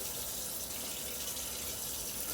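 A kitchen tap runs medium-warm water while Thai fresh rolls are being prepared, giving a steady, even hiss of flowing water with no pauses.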